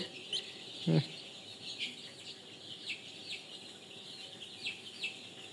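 Chickens on a poultry farm give faint, scattered clucks and short calls over a quiet background hiss, with one slightly louder call near the start and no talking.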